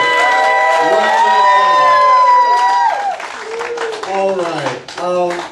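An audience at an after-party show cheers and whoops loudly, with rising and falling shouted voices close by and clapping mixed in beneath a brief spoken word.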